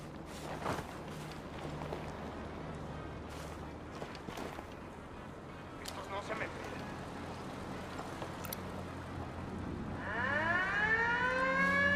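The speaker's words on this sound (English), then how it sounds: "Was the alarm supposed to go off?" An alarm siren sounds in a military shooter video game, with a rising and falling wail that grows louder near the end over a busy background of ambient noise and scattered thumps.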